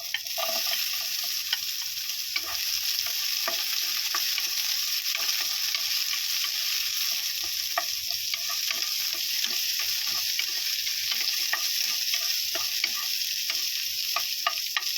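Onions fry in a pan with a continuous bright sizzle, dotted with frequent small crackles and pops and occasional stirring, steady and close with no speech.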